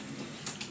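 Water turned on through a Junkers natural-draft gas water heater, a brief, soft, steady rush of running water nearby.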